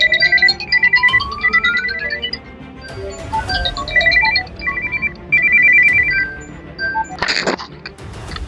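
A phone's message notification ringtone sounds loudly with repeated bright electronic chirping bursts and a rising sweep, followed by more beeping tones and a brief noisy burst near the end, with no talk over it.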